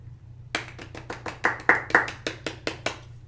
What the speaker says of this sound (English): We wanted to give them a round of applause, okay?